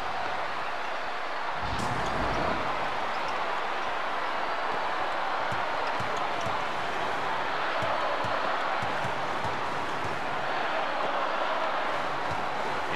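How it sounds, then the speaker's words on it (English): A roaring home crowd fills a college basketball arena in NCAA March Madness 2005, UCLA Bruins versus Arizona Wildcats, with dense, sustained cheering and noise that holds steady throughout, plus a few brief thumps. "Listen to that crowd, Dick Vitale."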